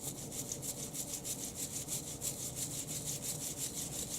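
A dirty dog leash scrubbed by hand in a fast, steady back-and-forth rhythm of close, rasping brush strokes with no pauses and no talk.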